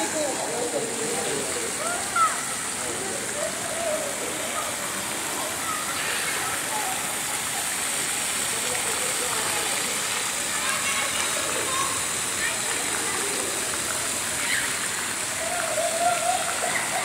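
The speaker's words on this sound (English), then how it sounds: "playing water games in these fountains" Splashing water from city-centre fountains in Mississauga, where children play water games, a steady broadband rush and patter with scattered voices and shouts of kids throughout.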